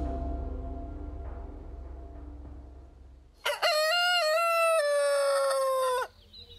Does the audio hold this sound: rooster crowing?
yes